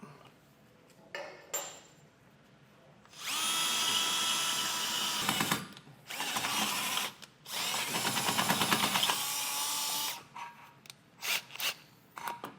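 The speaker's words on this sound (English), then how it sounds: "So we'll go through and get these all drilled out." A power drill enlarging holes for a base plate on a 2023 Jeep Gladiator, with several loud bursts of whining drilling separated by pauses, light clicks and handling noises.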